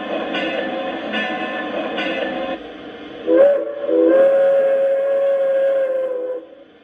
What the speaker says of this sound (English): So we have our bell.